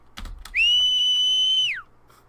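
A sharp, sustained whistle in a video game, steady and loud for over a second before sliding down in pitch, following a few soft knocks.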